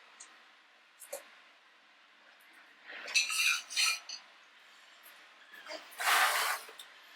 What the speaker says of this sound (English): all you would do is grab a second pan and put it on the stove